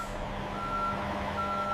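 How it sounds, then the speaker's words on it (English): A truck reverses toward a factory receiving dock, its reversing alarm sounding steady high beeps in two stretches over a constant low engine rumble, moderately loud and alone without talk. "The truck reverses toward the receiving dock with careful guidance from the dock worker."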